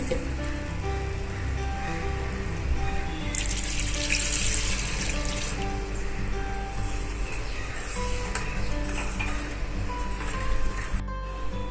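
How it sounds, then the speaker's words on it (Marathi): Water splashes and pours steadily into a mixer jar for several seconds, with a brighter gush partway through; no speech. "मिक्सरच्या भांड्यातच पाणी टाकलेलं आहे बघा"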